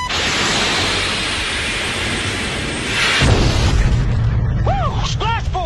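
A missile fires during aerial combat, a loud roaring burst that swells partway through over sustained jet noise, followed by voices on the radio.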